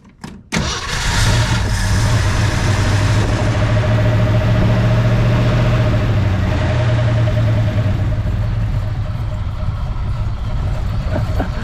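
A 1966 Ford Fairlane with a 390 FE V8 and four-speed cranks briefly, then catches and settles into a loud, steady, rumbling run that holds for several seconds with no talking over it.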